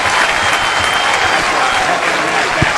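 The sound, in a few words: baseball crowd cheering a base hit for the Bulldogs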